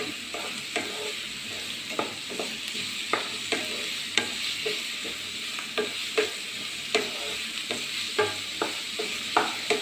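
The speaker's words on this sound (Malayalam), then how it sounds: "ഇളക്കി കൊടുക്കാം," Chopped capsicum sizzles in a hot pan while a spatula scrapes and tosses it in quick, regular strokes, close and fairly loud.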